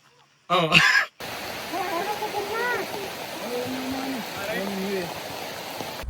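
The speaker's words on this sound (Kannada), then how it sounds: "ಮಳೆ ಬೇರೆ ಸ್ಟಾರ್ಟ್ ಆಗಿಬಿಡ್ತು ಬರೋ ಟೈಮಲ್ಲಿ" Monsoon rain on a Kudremukh trek trail, a steady dense hiss of falling rain and running water with voices talking over it, following a brief loud burst at the start.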